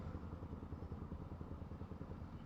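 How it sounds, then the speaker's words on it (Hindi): A modified Yamaha R15 motorcycle fitted with an Akrapovic exhaust sits in a Delhi traffic jam, its engine giving a faint, rapid, throbbing low exhaust burble. "आगे जा रही है एक बढ़िया मॉडिफाई R15। भाई ने एग्जॉस्ट लगवा रखा"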